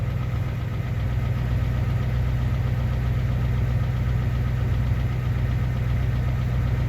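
A 1990 Ford F-250 engine idles cold, a steady low rumbling drone with a faint rhythmic ticking, close and continuous without any voices.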